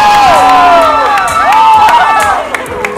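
Pageant supporters at a Miss Supranational Thailand 2019 contest cheer and shout loudly in a continuous, high-pitched crowd roar with whoops, close and intense throughout.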